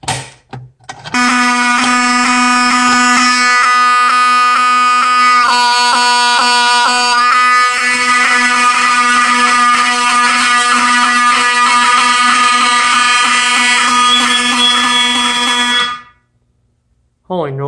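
A Wheelock 7002 fire alarm horn strobe, set off by pulling down a T-bar pull station, blares continuously for about fifteen seconds, a harsh buzzing electronic tone that cuts off abruptly, leaving brief silence.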